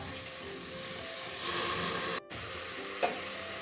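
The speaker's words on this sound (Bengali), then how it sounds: "এবারে ঢাকনাটা খুলছি একটু নাড়িয়ে দিচ্ছি" Brinjal with tomato and onion gets stirred in a frying pan over medium heat, a steady close sizzle running throughout with a brief break near the middle and a small scrape of the spatula just after.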